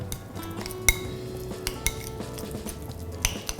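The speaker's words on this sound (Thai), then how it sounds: "เราก็จะเพิ่มตัวมอสซาเรลล่าชีสนะครับผมเข้าไป จากนั้นเราก็คนให้เข้ากันนะครับ" A utensil stirs mozzarella cheese into an herb mixture for baked tiger prawns, giving soft scraping with several light metallic clinks against the bowl, close and steady.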